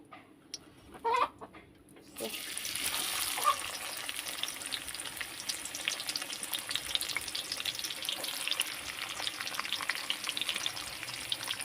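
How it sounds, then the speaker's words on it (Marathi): Chopped onion drops into hot oil for a prawn and cluster bean stir-fry, with a few faint clinks first and then a sudden steady sizzle and crackle that holds, fairly quiet, to the end. "तेल गरम झाले वाटते त्याच्यामध्ये मी सोडते कांदा"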